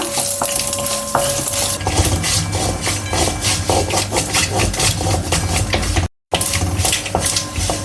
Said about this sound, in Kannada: ಕಡಲೆಕಾಯಿ ಚೆನ್ನಾಗಿ ಹುರಿದಿದೆ